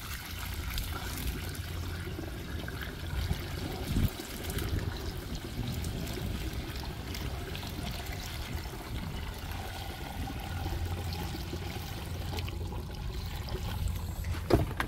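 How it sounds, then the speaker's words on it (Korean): Collected rainwater pours into a container in a home vegetable garden, a close, continuous splashing trickle that holds steady for about fifteen seconds with no talking. "그래서 요렇게 붓고 자, 물을 부을게요."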